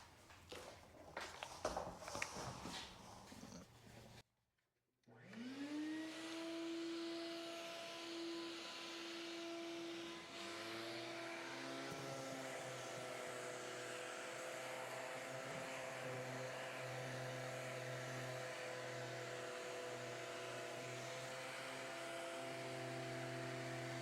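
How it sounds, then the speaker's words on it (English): A powered sander works over a wooden roll top desk. It spins up after a brief silence and settles into a steady, loud whine with a low motor drone that runs on continuously. "I guess next step will be to get it all sanded down."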